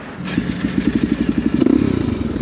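Dual-sport motorcycle, a DRZ 400 with long suspension travel and a quick clutch, ridden near Salt Lake City; its close engine thumps in a fast, steady pulse that builds and revs harder partway through.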